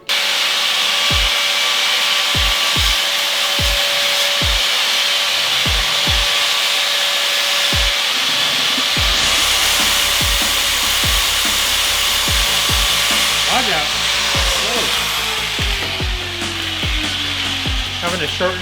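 Screws being cut shorter with a power tool in a workshop building a carbon fiber widebody Genesis Coupe: a loud, steady harsh cutting noise with a sustained tone and a regular series of sharp ticks, no talking.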